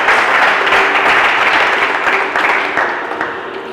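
An audience at a bilingual contest's round-of-sixteen show bursts into sustained applause, a dense wash of clapping that starts loud and slowly tapers over nearly four seconds.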